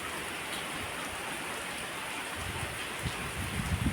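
Steady rain pours outdoors after the first rain of the season, a dense continuous hiss with heavier drops spattering close by near the end; no voices.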